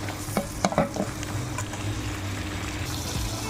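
Vegetables sizzle and fry in a pan, with a few quick clattering stirs near the start, then a steady close hiss with no voices.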